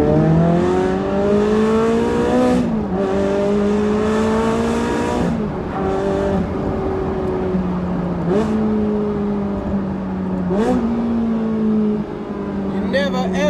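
A Ferrari 308 with a 3.0 engine revs hard in repeated rising sweeps, each pull building in pitch and then dropping back, loud and close throughout.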